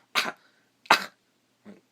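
Two sharp, forceful imitated coughs from a nearby voice, followed by a softer third cough, each short with brief pauses between.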